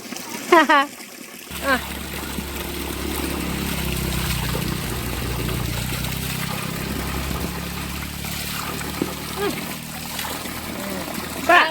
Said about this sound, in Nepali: हाम्रो गाउँको पुरानो धारामा आयो पानी